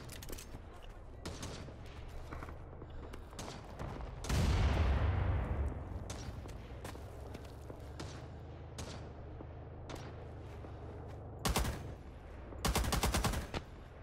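A DP-28 light machine gun fires in Rising Storm 2: Talvisota's Winter War setting, with scattered sharp shots and bursts over a battlefield background, a heavy loud volley midway and more bursts near the end.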